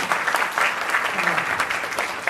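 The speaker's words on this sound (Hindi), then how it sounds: "सो हमारे जजेस के लिए एक बार जोरदार तालियां सभी लोग मिलकर आ जाएंगे।" Loud, dense applause from an audience at a live fashion show and model hunt, greeting the judges in one continuous burst of many clapping hands.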